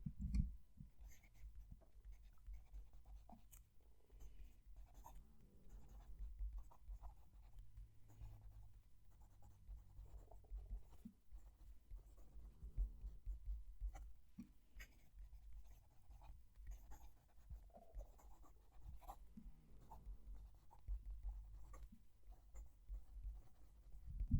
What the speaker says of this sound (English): Let's move the mic and write a sentence.